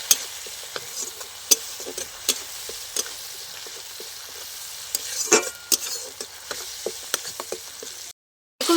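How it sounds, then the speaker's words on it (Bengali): Mustard and poppy seed spice paste fries in a pan for a vegetarian eggplant dish, a steady soft sizzle broken by sharp spatula clicks and scrapes as it is stirred. "এভাবে কিছুক্ষণ নাড়াচাড়া করে নেব।"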